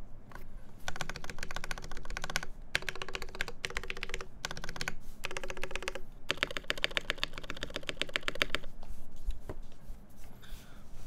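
Rapid bursts of typing on a KBD8X MKII mechanical keyboard during a build, with clicky, clacky keystrokes in dense runs separated by brief pauses, close and clear with no talk.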